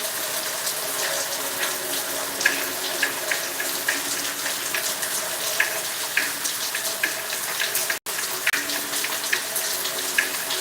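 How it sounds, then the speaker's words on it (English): Steady heavy rain from a thunderstorm in South Carolina, with wind, a continuous dense wash of water noise with faint droplet ticks, no distinct thunder claps standing out. "It's thundering, it's lightning, it's raining, the wind's blowing."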